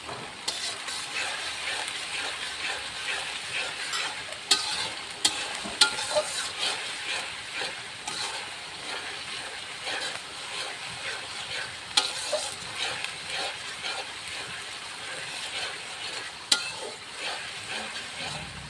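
Silvercup fish dopiaza sizzles and fries in a pan with onions, a continuous dense crackle with occasional sharper pops and stirring scrapes, close and steady without talk.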